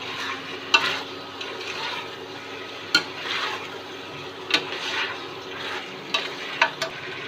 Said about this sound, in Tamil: உப்பு போட்டு நல்லா மிக்ஸ் பண்ணி விட்டுக்கலாம்